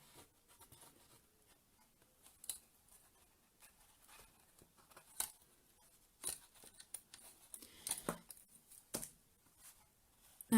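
Faint, close snips and soft rustling as scissors trim the ends of necklace strands on a work surface, a handful of quiet cuts scattered among light handling noise.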